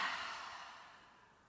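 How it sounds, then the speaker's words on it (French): A slow exhale through the mouth during yoga breathing, a soft airy breath that starts fairly loud and gently fades over about a second and a half, with no talking. "Soufflez par la bouche."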